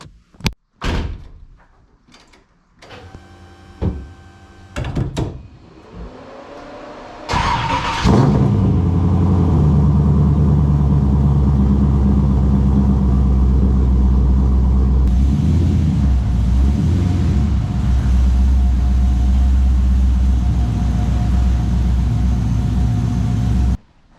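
A Nissan 350Z, apparently LS-swapped, being readied for a winter event: a few door clunks and rattling handling noises, then the engine fires up and settles into a loud, steady, deep idle that keeps running to the end.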